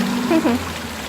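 Rain falls in Queensland as a steady, even hiss of drops close by, with a brief voice rising over it early on.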